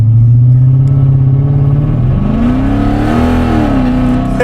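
A Jeep SUV engine revs hard with a lopey aftermarket cam chop, its deep rumble rising and settling in loud, continuous pulses close by.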